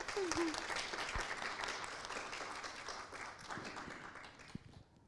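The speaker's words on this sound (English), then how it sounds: "We can go and give a round of applause" An audience at an academic talk gives a round of applause, a continuous crackle of many hands that slowly thins and fades over several seconds, with a few louder isolated claps near the end.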